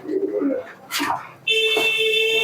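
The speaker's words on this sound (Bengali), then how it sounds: "টেডি কবুতর মাত্র 2500 টাকায়" Teddy pigeons in a bird shop give a short low coo near the mic, with a brief voice over it and a bright steady whine filling the background.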